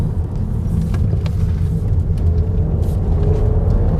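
A 2019 Skoda Superb Estate's engine rumbles steadily up close, shifting in pitch as the car brakes before a corner and swings through a 180-degree turn, with no voices.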